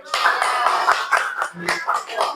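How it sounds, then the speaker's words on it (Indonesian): A classroom of students clapping hands together in a burst of applause at the end of a lesson, the claps dense and overlapping, with a voice talking over part of it. "Tepuk tangan semuanya."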